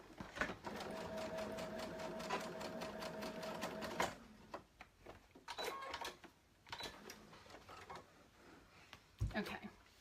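A sewing machine runs a long steady seam on a child's shark tail blanket, then stops, followed by clicks, handling noises and brief bursts of stitching.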